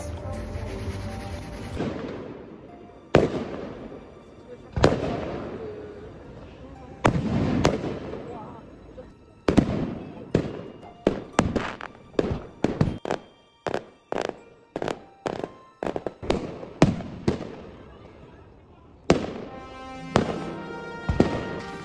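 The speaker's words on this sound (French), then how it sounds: "Les feux d'artifice." Fireworks burst in a rapid series of sharp, booming cracks at an outdoor manga festival at night, some bangs isolated and others crowded together, with crowd voices between the blasts.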